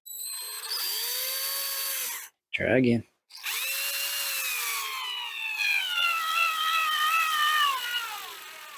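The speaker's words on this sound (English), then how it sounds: "That is not the sound of a happy drill." A weak 9.6-volt cordless drill strains while driving a wood screw, its whining motor pitch wavering and sagging, stopping briefly, then running again, with a short spoken phrase in the gap.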